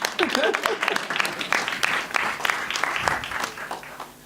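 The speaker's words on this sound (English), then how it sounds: "Can we give ourselves a round of applause?" A conference session audience applauds, a steady patter of many hands at moderate distance with scattered sharper claps and faint voices mixed in.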